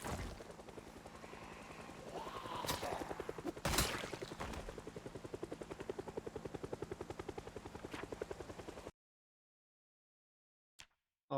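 Video game helicopter flying close and loud with a steady rapid rotor chop, one brief heavier burst partway through, then cutting to near silence with a couple of faint clicks.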